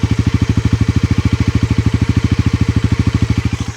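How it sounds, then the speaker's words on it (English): A Bajaj Pulsar NS400Z motorcycle idles with the microphone near its exhaust, a steady rapid low thumping pulse, close and even, with no voices. "This is what it sounds like in idle."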